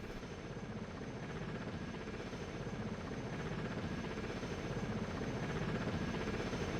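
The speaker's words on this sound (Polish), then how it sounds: "Co ten samolot tutaj robi?" An airplane flies overhead in the video game Delta Force: Land Warrior, a steady pulsing engine drone that slowly grows louder across the clip. No one speaks.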